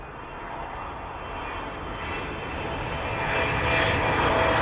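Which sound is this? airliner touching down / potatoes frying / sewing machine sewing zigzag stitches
airliner touching down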